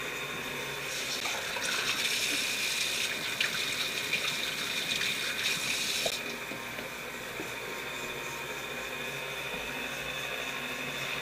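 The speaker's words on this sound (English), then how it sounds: "I'm going to wash my hands before I get started." Tap water runs steadily into a kitchen sink while hands are washed, a fuller gushing stretch for the first six seconds before the flow eases to a quieter, even stream.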